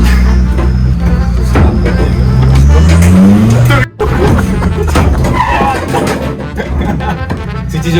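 Van braked hard with the handbrake, tyres skidding and squealing loudly over a roaring engine, with a brief cut midway and people talking excitedly throughout.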